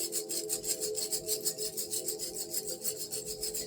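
A handheld rattle filled with stones is shaken in a steady rhythmic pattern, a close, continuous scratchy swishing with regular pulses and no talking.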